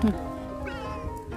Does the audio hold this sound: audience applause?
no